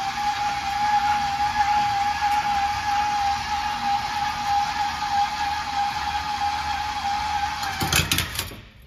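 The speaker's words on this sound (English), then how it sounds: "So once you hear the motors kind of load up, that's when you're going to want to stop" RV power stabilizer jack motors on a 2022 Heartland Pioneer 280BH travel trailer run with a loud, steady electric whine and hum for several seconds, then strain and cut off with a few clunks near the end.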